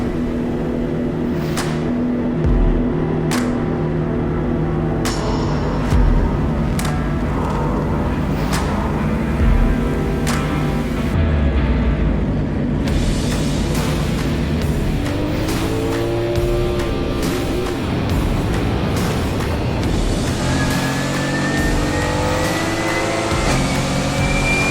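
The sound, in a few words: GT4 race car engine on track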